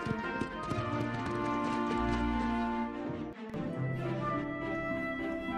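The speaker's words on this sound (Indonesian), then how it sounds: "Yesus menunggangi keledai itu ke Yerusalem" Donkey hooves clip-clop steadily over a sustained musical backing, continuing almost the whole time at an even pace.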